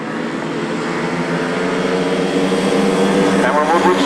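Grasstrack racing motorcycles leave the start together in a dense, loud, sustained engine roar that builds slightly over a few seconds, with a commentator's voice over it.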